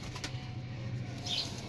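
Pigeons flapping their wings on a rooftop loft, a soft continuous fluttering with a couple of brief bursts, heard close over a low steady background hum.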